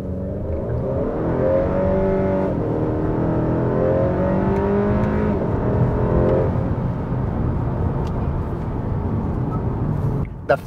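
A 10th-generation car on a Phearable Stage 4 ethanol tune accelerating hard, the engine note climbing steadily through a gear with a steady roar for about ten seconds, then a sudden drop and a thump at the end.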